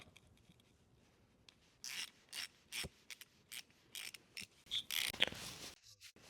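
T20 screws being undone on a VW T5 2.5 TDI boost pressure sensor give faint, close ratcheting clicks in short bursts, alone with no talk.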